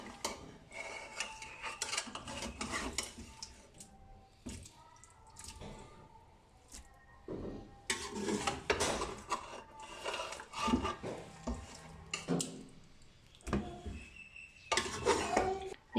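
Pieces of chicken are set into a cooking pot over a layer of rice for a chicken biryani, giving soft wet squishes, spoon clinks and metal scrapes in irregular close bursts, with quiet gaps between.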